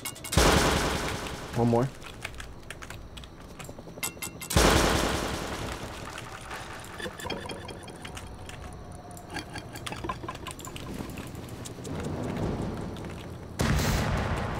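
Gunshots from a raid in the survival video game Rust: loud broadband blasts in a few separated bursts over a steady game background, with a player talking briefly between them.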